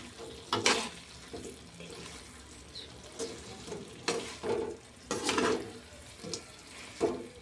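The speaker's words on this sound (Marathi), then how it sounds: "आता याला आपल्याला थोडं हलवून घ्यायचं।" Soybean curry stirred in a frying pan, with a spoon scraping and scooping in bursts over a steady sizzle, close and moderately loud with no talking.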